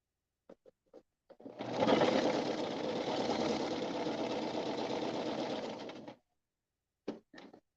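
Sewing machine stitching fabric scrunchies, a steady motorized whirring and rapid needle clatter running for about four and a half seconds, bracketed by a few short clicks before and after.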